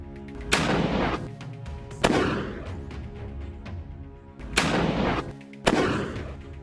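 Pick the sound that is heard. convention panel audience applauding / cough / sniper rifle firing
sniper rifle firing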